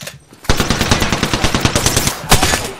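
Rapid automatic weapon fire in the battle royale game Apex Legends, a loud, close, steady stream of around twenty quick shots in a tight rhythm, ending in a heavier final burst.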